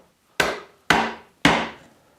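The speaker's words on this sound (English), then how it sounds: "I'm not tapping or not walloping on this, just light taps." Three light, evenly spaced taps of a mallet on a chisel chopping a through mortise in wood, each a crisp close knock with a short decay, alone in a quiet shop.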